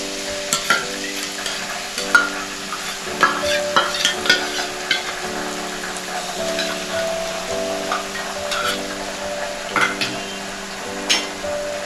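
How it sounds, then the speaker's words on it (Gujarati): Chopped onion and ginger-garlic paste fry in a pan for Punjabi dal fry with a constant loud sizzle, broken by frequent sharp clicks and scrapes of a spoon stirring against the pan. "1 નંગ જે ડુંગળી સમારી હતી આપણે ઝીણી એ ડુંગળી ઉમેરી દઈએ. એમાં આપણે આદુ લસણની પેસ્ટ પણ ઉમેરી દઈએ."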